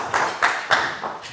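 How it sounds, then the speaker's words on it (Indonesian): A few hand claps from a studio audience applauding Cynthia, soft rhythmic pats close by over faint room noise. "Kita berikan tepuk tangan sekali lagi untuk Cynthia."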